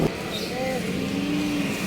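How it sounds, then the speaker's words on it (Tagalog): Jeepneys and other vehicles rumble past on a busy street near a small fish market, a continuous engine drone with passing swells under light background chatter. "May mga jeep dito, oh. ganyan sila kapuno."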